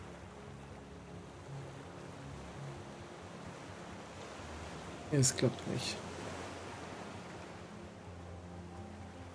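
Ocean waves in the survival game Raft wash in a steady, soft, hissing swell while someone speaks German over it, with a short burst of louder clatter midway.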